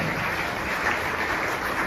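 A congregation in a church claps loudly in a dense, steady burst of applause that lasts the whole moment, with no speech over it.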